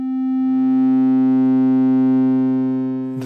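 Steady Eurorack DPVCO oscillator tone, a bright harmonic-rich drone with slight FM colouring, holding loud and constant for about three seconds before a brief noisy cutoff at the end, with no voices.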